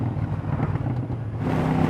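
A Triumph Speedmaster motorcycle engine running with exhaust rumble, loud and steady, with wind noise over the microphone and no voices.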